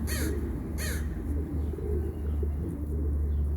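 Pigeons coo at an outdoor bird feeding spot, a low continuous murmur under two brief, harsher bird calls at the start, with no talking.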